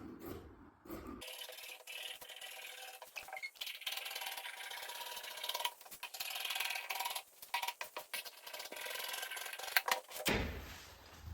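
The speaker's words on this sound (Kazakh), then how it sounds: "осы сызып шыққан сызықтардың үстіне қиып шығамын" Scissors cut through fabric along drawn lines of a trouser pattern, with steady close rasping snips and rubbing over several seconds, fairly quiet with brief pauses.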